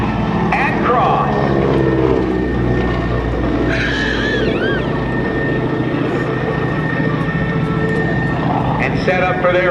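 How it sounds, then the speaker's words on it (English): GEICO Skytypers airplanes fly in formation at the 2005 NAS Oceana airshow, a steady loud propeller drone passing overhead with an announcer talking over it throughout. "The GEICO Skytypers as they pull up"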